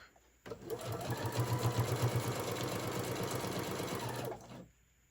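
A sewing machine stitches around the edge of a fabric tote bag, starting abruptly after a moment of quiet, running in one steady, fast, humming burst for about four seconds, then stopping.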